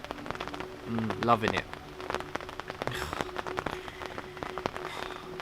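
Rain falls at a lakeside carp fishing swim at Yateley, a soft steady patter with scattered sharper drops, while someone speaks briefly over it.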